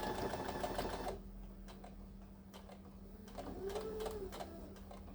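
A sewing machine stitches fabric for a headcovering in a fast, steady run that stops after about a second, followed by a quieter stretch of faint ticks and mechanical hum.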